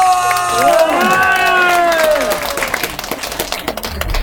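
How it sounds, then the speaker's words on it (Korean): Applause and cheering from a crowd at a Korean folk variety show, loud and sustained, with a melodic voice or instrument line sweeping over the cheers at the start before the noise settles into ongoing clapping. "큰 박수가 함성!"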